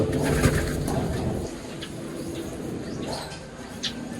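Pigeons cooing up close in soft, repeated low calls over a faint background hum, with occasional rustles and no talking.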